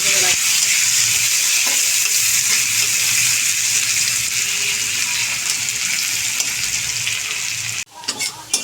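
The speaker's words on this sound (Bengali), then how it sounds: "গোটা গোটা জিরে ফোড়ঙে দিলাম এরপরে পেঁয়াজ কুচি পেঁয়াজটা সুন্দর করে কুচি" Chopped onion and whole cumin seeds fry in hot oil in a pan with a loud, steady, close sizzle that runs unbroken, then drops off abruptly near the end, leaving a few scattered clinks and crackles.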